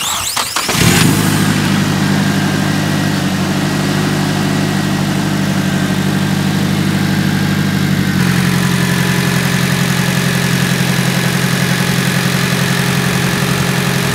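A Nissan 240 with a replaced O2 sensor cranks and catches within a second, then settles into a loud, steady idle with a deep rumble that holds without stopping.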